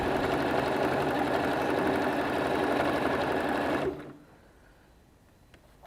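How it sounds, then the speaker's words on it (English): A Singer sewing machine stitches a bag with a steady, loud mechanical whirr for about four seconds, then stops abruptly, leaving near silence. "I've got singing when I'm using my sewing machine."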